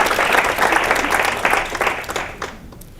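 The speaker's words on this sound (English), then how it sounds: "One more round of applause." An audience at an academic fellows' event claps steadily for a newly graduated PhD, a full close burst of applause that tapers off in the final half second.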